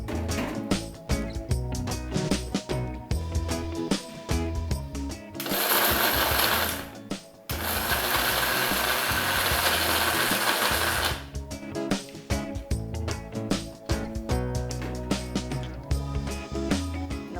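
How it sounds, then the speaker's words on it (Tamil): A kitchen mixer grinder whirs loudly as it grinds palm jaggery, the motor running in long continuous bursts with a short stop between them and rattling stop-start pulses at the beginning and end. "இதையும் மிக்சியில் போட்டு ஒரு ஓட்டு ஓட்டிக்கலாம்."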